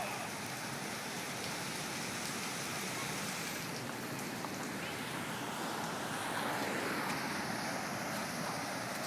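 Thunderstorm over Phoenix, Arizona, with steady heavy rain and gusting wind, a dense continuous roar of rainfall and wind noise buffeting the microphone throughout, with no voices.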